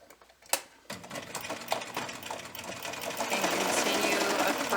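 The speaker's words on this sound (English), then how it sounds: "So I'm just gonna pick up where I left off here with my stitching." Sewing machine stitching continuous bias tape onto a quilted leaf-shaped hot pad, a steady mechanical whir that builds and grows louder toward the end after a brief click at the start.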